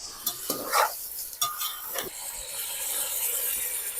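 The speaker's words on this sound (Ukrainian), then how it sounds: "уже воно шкварчить, уже м'ясо жариться" Meat sizzling in a hot pan for plov cooked over an open fire, a steady crackling hiss with a few scraping stirs near the start; no talking.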